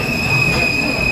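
A Vande Bharat Express train at Bokaro Steel City Junction rumbles loudly and close on the platform, with a steady high-pitched whine over the rolling noise throughout the short stretch.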